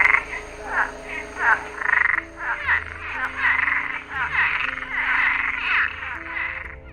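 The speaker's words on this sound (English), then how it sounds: "This is the Cuban tree frog." A Cuban tree frog in Jamaica croaks in a rapid run of raspy, rattling calls, loud and close, repeating steadily with little pause.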